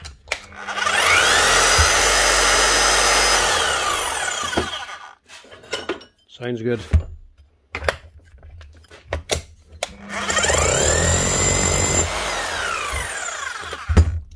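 A Bosch GSH5CE demolition hammer runs after a cable repair, loud and harsh in two long bursts separated by a pause filled with handling clatter, and a short spoken remark is heard.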